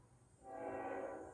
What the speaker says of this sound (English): excuse the train going by.